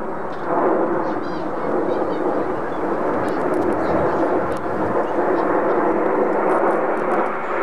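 A loud, steady jet roar fills the air as Mirage III aircraft pass overhead in Concorde formation at an air base display, a broad rumbling drone that holds throughout.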